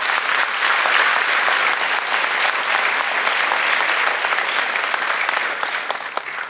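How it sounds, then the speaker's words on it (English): Sustained applause from a large audience at a college fall convocation, honoring board trustees; dense, even clapping fills the whole stretch, steady and loud before tapering slightly at the end. "Let's give them a round of applause for that commitment."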